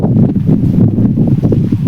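Strong wind buffets the microphone with a loud, continuous low roar that swells and dips.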